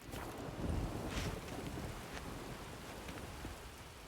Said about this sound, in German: Jetzt regnet's.